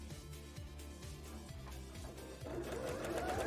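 A sewing machine stitching trim onto a petticoat, running in quick rhythmic bursts of needle clatter that grow louder and denser toward the end.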